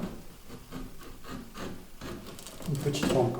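Knife slicing fresh fruit such as cherries for a cocktail garnish, a series of soft rhythmic cutting strokes on a board that grow busier and louder toward the end, with speech faintly underneath.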